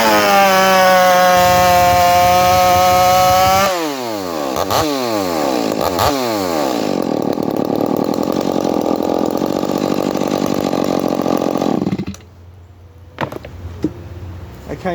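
Chainsaw with an RS chain revving, then cutting a cookie from a log, a loud continuous buzzing engine under load that drops to a quieter idle near the end.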